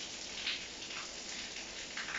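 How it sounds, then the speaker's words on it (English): Outdoor rain falls as a soft, even hiss with a few slightly louder patters, steady and fairly faint throughout. "It's raining."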